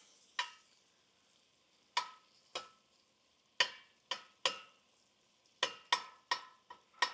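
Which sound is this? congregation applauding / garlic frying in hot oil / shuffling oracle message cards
garlic frying in hot oil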